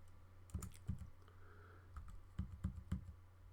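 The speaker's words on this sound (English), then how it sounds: "That's me pressing all sorts of strange things on my keyboard" Keys on a computer keyboard being pressed in irregular bursts of sharp, close clicks with short pauses between them, set over a steady low hum and with no voices.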